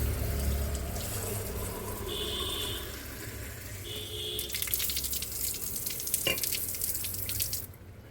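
A tap at home runs steadily, filling a small pot with water for a puja offering. The splashing is soft and fairly quiet, with faint clinks and a brief higher tone in the background.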